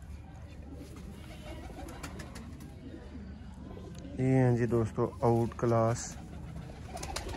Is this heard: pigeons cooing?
yes